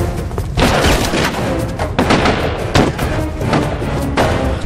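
Gunfire and explosions from a war film battle scene, with dense, continuous noise broken by repeated heavy booming bursts roughly every second, loud and close throughout.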